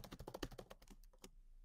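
Quick typing on a computer keyboard, a close, rapid patter of soft key clicks that slows and thins out toward the end.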